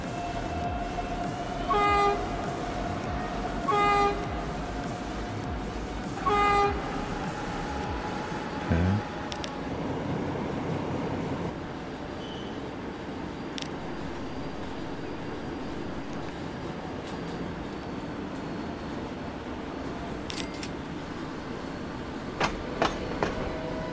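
A train running in Transport Fever: steady rolling rumble with several short horn blasts early on, then fading to quieter track noise and faint clicks, no talking.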